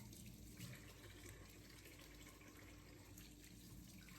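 Tap water running steadily into a kitchen sink during hand washing, a continuous faint rush with no talking.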